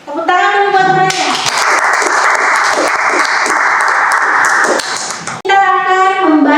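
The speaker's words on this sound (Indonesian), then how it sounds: "Tepuk tangan dulu buat temannya." A classroom claps for a student: a burst of group applause, loud and dense, rising after a teacher's voice and stopping abruptly, with speech before and after it.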